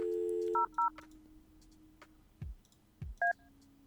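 Telephone dialing in the video game Kathy Rain: a loud tone, then a few short dual-tone key beeps, two dull thuds, and a final beep pair, with no talking.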